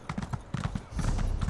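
Hooves of a horse mount clop in a quick, steady rhythm in an Elder Scrolls online game, close and fairly loud, with a voice faintly underneath.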